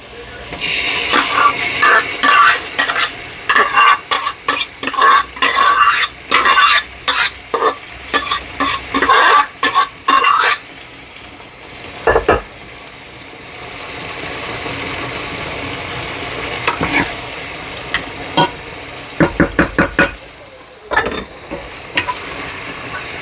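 Tadka sizzles and spatters in a pav bhaji pan, with rapid bursts of crackling and scraping for about ten seconds, then a quieter stretch of steady sizzle broken by occasional louder pops.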